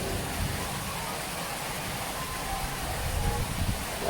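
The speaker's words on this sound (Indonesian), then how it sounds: "Ya kan hujan kan?" Rain falls steadily at a fishing competition pond, a constant broadband hiss that stays even throughout without distinct drops or pauses.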